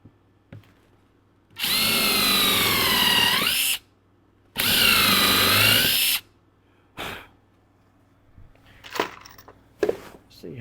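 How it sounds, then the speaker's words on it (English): A power drill drives countersunk screws into wood on a workbench in two sustained whining runs of about two seconds each, close and loud, followed by a few faint clicks and handling knocks. "So I'm just going to take screws, countersink them"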